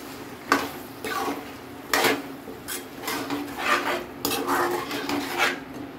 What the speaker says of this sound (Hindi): तो हम इसे अच्छे से भून लेते हैं।